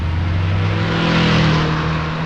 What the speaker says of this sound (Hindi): एक बार फिर बाइक स्टार्ट करके घर की तरफ चल पड़ा